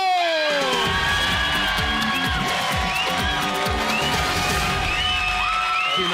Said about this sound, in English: Please put your hands together, clap, cheers, scream, give it up for Eamonn Holmes!